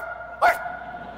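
A dog gives a single sharp, mid-distance bark that rings out once against a quiet background.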